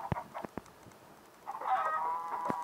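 Minecraft chickens cluck near a farm coop, a few short clucks followed by a longer burst of clucking, close and moderately quiet with no talking.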